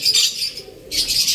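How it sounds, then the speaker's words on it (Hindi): A baby pigeon calls close by: two high, breathy bursts of squeaky cooing separated by a short pause, with no talking. "ये कबूतर का छोटा सा बच्चा है"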